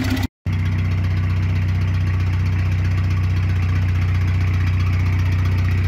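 A Citroën C15 with a swapped engine runs steadily at idle, a continuous close, loud low hum with a faint whir of the spinning turbo on top, broken only by a brief dropout near the start.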